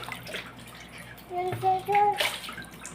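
A small child is bathed as water is poured over the head in a bathtub, splashing in short bursts while the child vocalizes close by.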